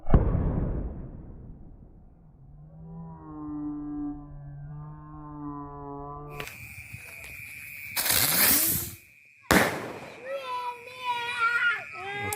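Bima Sakti Golden Blitz firework shells launch at night with a sharp burst, then further loud bangs and crackling close by. Voices are heard before and between the blasts.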